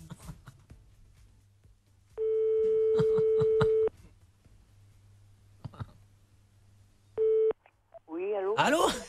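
Phone call tones ring out loud and steady over a faint background hum, one long tone followed by a shorter one after a gap, then a voice answers.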